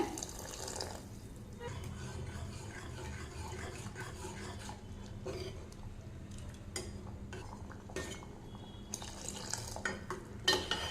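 A spoon stirs cornflour mixture into cluster bean soup in a cooking pot, giving a continuous wet swirling with intermittent scrapes and clinks against the metal over several seconds.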